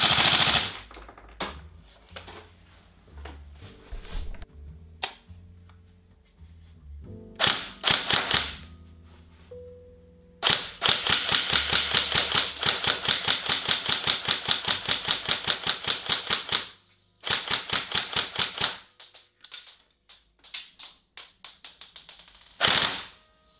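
Rapid bursts of fire from a Tokyo Marui HK416 Delta airsoft rifle with a recoil shock engine, each shot a sharp crack with a mechanical thump, in long strings and short volleys with brief pauses, close and loud.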